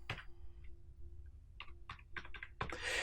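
Keys clatter on a computer keyboard during spreadsheet work in Excel, a steady scatter of close, crisp clicks and taps, some spaced apart and a quick run near the end, with no talking.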